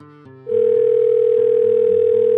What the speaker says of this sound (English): His cell phone rings.